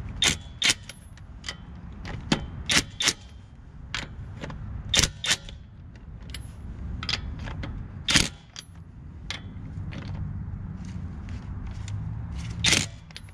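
An Amazon impact wrench snugging a car's lug nuts, giving a rapid series of sharp, short clicks and bursts spread across the clip over a low background hum.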